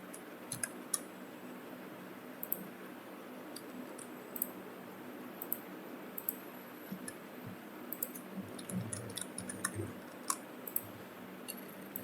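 Computer keyboard keys tapped while coding a calculator in HTML, CSS and JavaScript, scattered light clicks at an irregular pace over a steady faint hum, no talking.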